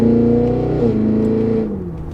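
A Cadillac Escalade V ESV engine accelerates hard in V mode, a loud, deep rumbling roar with rising pitch and a shift midway, heard from inside the cabin.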